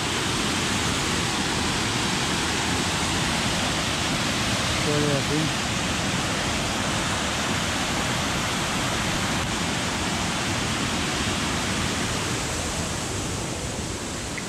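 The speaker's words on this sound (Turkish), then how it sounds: "yine bir şelalenin yanındayım." A waterfall near Füssen roars in a loud, constant broadband rush that masks almost everything else, with someone speaking briefly over it.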